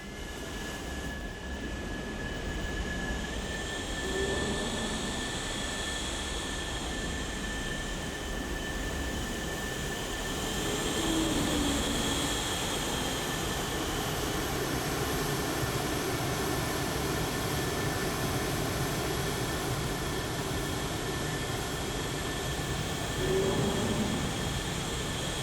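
A military jet in a flight simulator taxis out, its engine giving a steady loud whine with a fixed high tone over broadband rumble, swelling slightly at times, with no talk.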